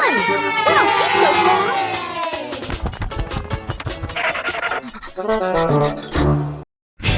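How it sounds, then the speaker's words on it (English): An animated cartoon crowd cheers at a race, excited shouting and children's cries swelling loudly under lively music, with a narrator talking over the noise before a brief pause. "The cheers from the crowd get louder and the tension rises"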